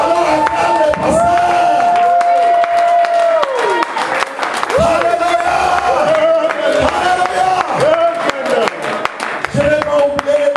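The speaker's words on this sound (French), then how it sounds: "Alors acclame le pasteur." A church congregation cheers and acclaims their pastor during a worship service, a loud sustained roar of crowd voices and applause with rising shouts, while a voice speaks and calls out over the noise throughout.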